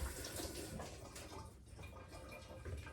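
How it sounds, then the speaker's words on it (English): Water runs continuously from a tap as hands are washed in a home kitchen, a soft, close, steady splashing with no pauses. "let me just wash my hands"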